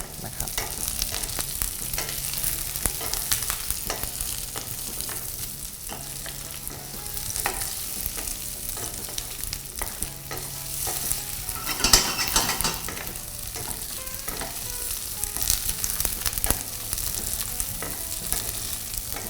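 Mixed vegetables being stir-fried in a pan for a seafood stew, a steady sizzle running throughout with frequent scraping stirs and a brief louder clatter near the middle, no voices.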